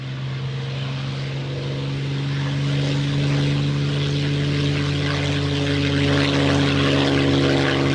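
A jet aircraft sent to destroy a bomber drones steadily overhead, a loud sustained engine roar with a strong hum that builds slightly over several seconds, with no voices.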